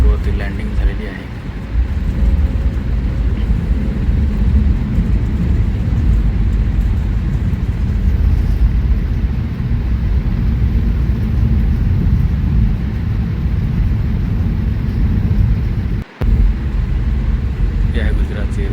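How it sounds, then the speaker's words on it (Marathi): A passenger plane on the runway after touching down at Ahmedabad airport gives a loud, steady, low engine and rolling roar that stays constant throughout, broken only by one very brief dip near the end. "आपली फ्लाईट आता गुजरातच्या अहमदाबाद एअरपोर्टवरती लँडिंग झालेली आहे."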